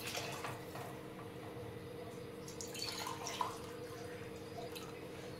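Water pours into a pressure cooker holding rice in a home kitchen, a faint, steady trickle and splash running throughout with a few quiet clinks, no speech.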